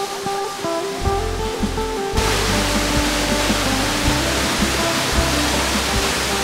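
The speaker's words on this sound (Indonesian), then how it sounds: "Gemericik air yang mengalir dari ketinggian bebatuan granit raksasa terdengar dari kejauhan" Water pours down over giant granite rocks on a mountain, a broad steady rushing roar that swells fuller after two seconds and stays constant, with faint low rumbles beneath and no talk.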